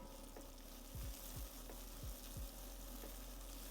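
Onions fry and sizzle in a pan with a steady, close hiss, broken by a few soft bumps as the pan or onions shift.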